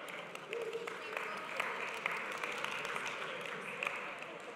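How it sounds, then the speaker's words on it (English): Scattered applause from a church congregation at a Sunday service, a soft, steady patter of clapping throughout, heard at a distance in a reverberant hall with a murmur of voices. "Some are clapping, some are booing."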